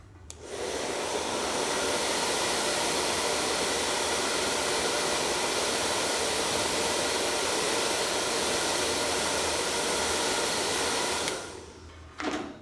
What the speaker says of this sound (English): Let me dry this off quickly.